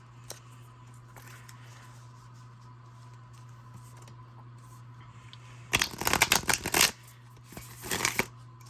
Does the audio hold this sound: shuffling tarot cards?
yes